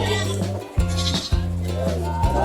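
Goats bleat repeatedly, close and loud, in long wavering cries that overlap one another with little pause between.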